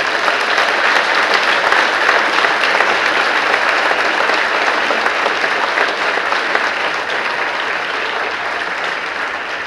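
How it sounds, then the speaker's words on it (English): Sustained, loud audience applause for choir singers at a spring choral festival, a steady dense wash of many hands clapping that fades slightly toward the end, with no voices over it. "Let's give these singers a huge round of applause."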